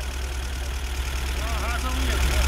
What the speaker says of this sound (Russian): Что с мотором, Жека?